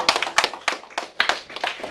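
Brief scattered classroom clapping, a handful of uneven hand claps in quick irregular bursts, fairly close and light rather than a full ovation.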